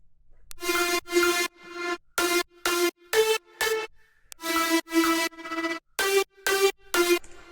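A bright synth lead made in FL Studio, with reverb automation, plays a rhythmic run of short and sustained notes, with a fuller, more spacious sound that hangs briefly between phrases.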